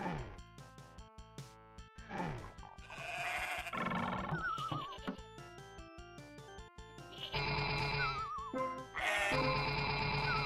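Game goat bleats from a DooM WAD level, several layered bleating calls with wavering pitch over a busy backdrop of other in-game effects, loud and repeated toward the end.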